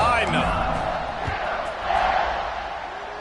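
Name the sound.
crowd cheering in College Football 25 video game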